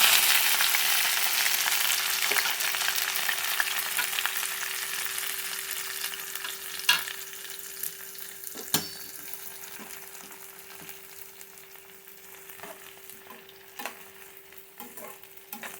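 Onion, tomato, green chili and curry leaves sautéing in a pan, a bright hissing sizzle that gradually fades and softens, with a few sharp spatula knocks and scrapes along the way.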